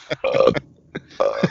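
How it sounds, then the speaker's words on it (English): A series of deep, resonant burps, three or four in quick succession with short pauses between, loud and close. "That's some deep sounding love burps."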